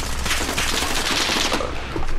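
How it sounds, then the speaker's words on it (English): Rapid automatic gunfire rattles in a shooter video game, loud and dense bursts that run the whole time without a break. "Oh, someone's shooting at me"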